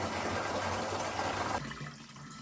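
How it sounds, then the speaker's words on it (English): Liquid poured from a bag into a kit gushes in a steady, close stream and then cuts off sharply, leaving only a faint trickle. "I'm going to pick this up and I'm going to immediately start pouring it in."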